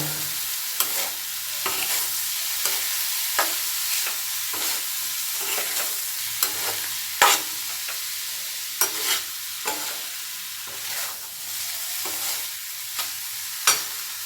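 Cauliflower paratha filling frying and being stirred in a pan, a steady sizzle with regular scraping strokes of the spatula, close and fairly loud, with no talking.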